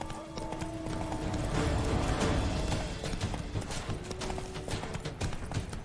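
Geralt's horse Roach trotting in The Witcher 3 in Toussaint, a steady run of hoof clip-clops at moderate volume with soft ambient background.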